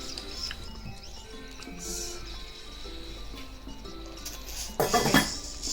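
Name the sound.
pot being covered with a lid while cooking potatoes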